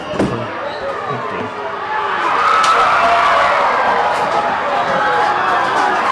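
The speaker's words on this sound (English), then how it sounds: "The crowd's starting to get involved with this one with the international team here." Stadium crowd at the McDonald's Fiji Coral Coast Sevens rugby tournament, a broad roar of cheering that swells midway and stays loud, with a commentator talking over it.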